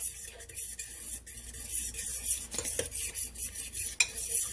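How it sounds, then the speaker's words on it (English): Spoon stirring ranch chicken sauce in a crockpot turned up on high; soft, steady scraping and clinking strokes close by, fairly quiet, with no talk. "so let's stir that into the sauce"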